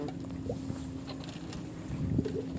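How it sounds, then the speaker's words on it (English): An electric drive motor on the sailboat Ad Astra runs at low RPM, a faint steady hum beneath wind noise and water sloshing against the hull, with no talk. "I switched on the electric drive and put it in a low RPM setting."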